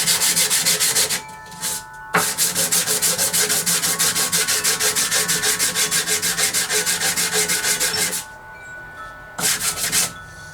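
Wood pore filler is hand-sanded with a 150-grit sanding block: fast, loud, rhythmic back-and-forth rubbing strokes in sustained bursts, with brief pauses between them, close up with no talking.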